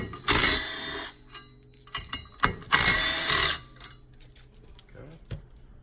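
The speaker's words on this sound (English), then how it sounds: "You can either use a T50 Torx or a 13mm socket. And you're going to go ahead and remove those 3." A socket ratchet (13mm socket or T50 Torx) removes the three bolts holding the helix on a secondary clutch. It sounds as two close, loud bursts of rapid clicking, separated by quieter handling noises and a few faint knocks.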